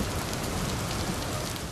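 Heavy monsoon rain pours down in a dense, unbroken hiss across every moment, loud and constant, with no voices present.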